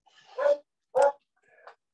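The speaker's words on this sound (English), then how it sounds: "That's my dog." A dog gives two short, close barks, then a softer whine or yip, loud and distinct in a quiet room with no talk.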